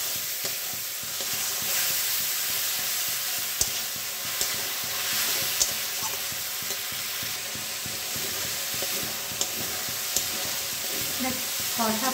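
Tomatoes and garlic with chickpeas sauté in a pan, a continuous close sizzle broken by repeated spatula scrapes and taps against the metal.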